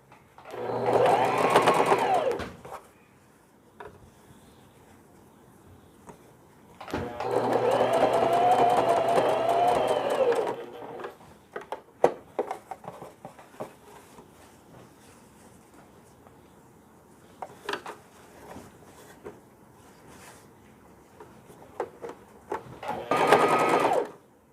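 Sewing machine stitching piping onto a smocked baby dress, in three whirring bursts of rapid stitching, close and fairly loud, separated by quiet stretches of faint handling clicks.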